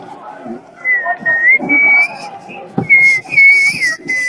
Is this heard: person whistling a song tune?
yes